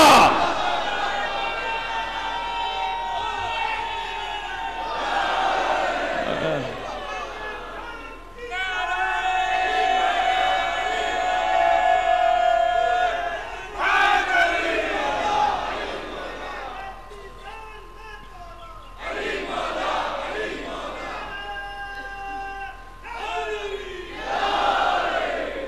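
A crowd at a religious majlis gathering in Jogipura, India, chants "Ya Ali Ali" in loud, repeated collective bursts that swell and break off, with a speaker's voice between the chants.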